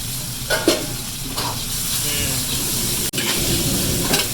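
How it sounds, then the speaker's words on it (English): Black pepper beef stir-fries in a hot pan, with a continuous close sizzle and hiss broken by a few scraping stirs. "Stir fry a little bit"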